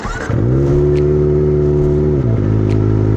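A Kawasaki ZX-25R motorcycle with an Akrapovic exhaust pulls away on clutch release alone, with no throttle: a loud, close, steady high-revving engine note that holds, then dips briefly and carries on.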